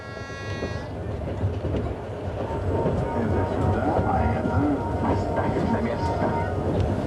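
A Russian passenger train bound for Siberia rumbles along the rails with a continuous low roar and faint rhythmic clatter, a brief horn tone sounding at the start.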